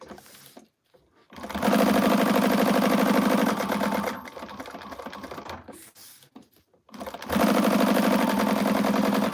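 A sewing machine stitches a narrow quilting seam in two loud, rapid bursts of mechanical chatter, separated by a quiet pause with brief softer clicking.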